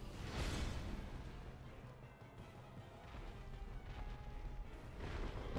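Explosion in the video game Dark Souls, in the Demon Ruins and Lost Izalith area: a faint, muffled boom early on that trails into a low, dull rumble and crackling noise.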